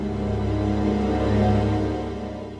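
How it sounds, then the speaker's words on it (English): Sustained chord played with a muted strings patch on a synthesizer, a soft, steady layered tone that swells slightly and fades near the end, with no voices. "Then I tried it for fun with muted strings."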